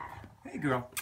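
An old arthritic dog snorts and grunts close by, rough breathy noises rising in the second half, while a person speaks softly over it.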